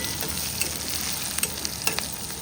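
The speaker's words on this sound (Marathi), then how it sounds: "कांदा छान लालसर होईपर्यंत परतायचा" Chopped small onion sautés in hot oil for a tempering, giving a steady, close sizzle with a few soft stirring clicks and no voices.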